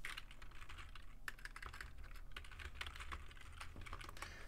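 Keys on a computer keyboard are tapped in quick, uneven bursts while a username is entered, faint and close with no talk.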